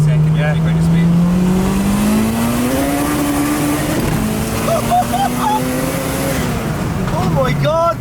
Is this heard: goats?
no